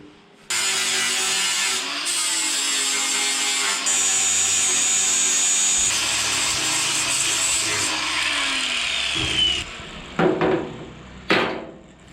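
An angle grinder cleans up a replacement car door panel during rust repair, running steadily and loud for about nine seconds with slight pitch shifts, then breaking into several short bursts near the end.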